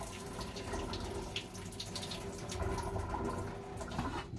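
Water drains from a pot of rinsed rice, a steady close splashing trickle like a running tap, with scattered drips and no talking.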